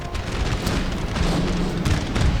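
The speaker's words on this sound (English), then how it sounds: "we need to make sure our cannons are still firing down the range here at their artillery" Cannon fire across a battlefield in Napoleon: Total War, a continuous dense rumble of booms and distant artillery reports rolling together without pause.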